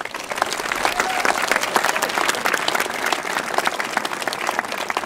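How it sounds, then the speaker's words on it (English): A commencement ceremony audience applauds the commencement speakers, a dense, steady wash of many hands clapping that fills the whole stretch at even loudness, with a faint voice briefly audible beneath. "Let's give our commencement speakers another round of applause."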